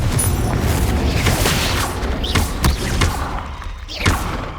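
Confringo blasting curse explosions in Hogwarts Legacy, a dense run of heavy booms and thuds one after another over a rumbling game soundscape, loud and close with sharp impacts near the middle and end.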